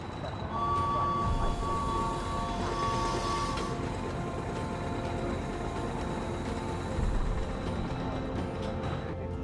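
The Orient Express train running, a continuous low rumble and rattle of railcars on track with faint steady whining tones above, constant and fairly close throughout, without talk.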